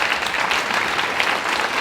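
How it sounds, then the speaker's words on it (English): An audience breaks into loud, dense applause, a close, continuous roar of many hands clapping at once with no pause. "a round of applause for that"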